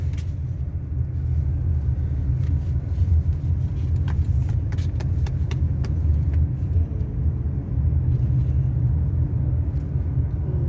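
Heavy road traffic on EDSA is heard from inside a moving car on a long drive: a loud, steady low rumble of engine and tyres with a few faint clicks, continuous and without speech.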